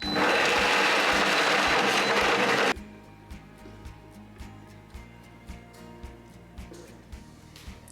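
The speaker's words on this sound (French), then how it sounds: "de l'ail, le jus d'un citron, du tahini, de l'eau, un avocat, du paprika, du sel, de l'huile d'olive, et tu mixes." A blender whirs loudly for under three seconds as it purées avocado hummus with garlic, lemon juice, tahini, water, paprika, salt and olive oil, then cuts off, leaving soft clicking and faint music.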